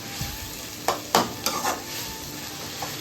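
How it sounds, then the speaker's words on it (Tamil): Onion, tomato and homemade ginger garlic paste sauté in a pan, with a soft continuous sizzle broken by several sharp stirring scrapes and clatters near the start. "வெங்காயம் வதங்கினதுக்கப்புறமா தக்காளியை போட்டு வதக்கிட்டு இப்போ இஞ்சி பூண்டு பேஸ்ட் வந்து வீட்டில் அரைச்சது சேர்த்துருக்கோம்"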